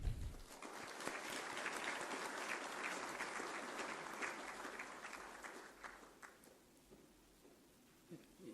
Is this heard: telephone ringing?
no